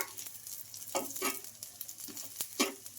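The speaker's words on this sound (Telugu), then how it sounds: "ఇప్పుడు ఆయిల్ అయితే వేసుకుంటున్నా బాగా పిండి ఆరిపోయిన తర్వాతే మనం ఆయిల్ అయితే వేసుకోవాలి" Oil sizzling around an oats and moong dal dosa in a pan, a crackling sizzle broken by several brief scraping and stirring bursts, close and uneven with no voices.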